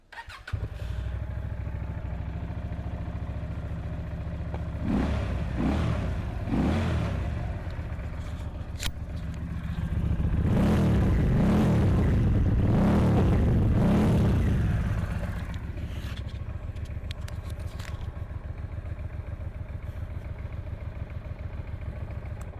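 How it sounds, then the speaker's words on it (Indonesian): A Keeway Benda V252C motorcycle's 250 cc V-twin engine runs steadily at idle, with a deep rumbling throb. It swells louder with a couple of revs midway, then settles back to idle. Nobody speaks. "karena motor ini memiliki konfigurasi mesin V-twin 250 cc teman-teman, maka suaranya tuh pasti lebih sangar"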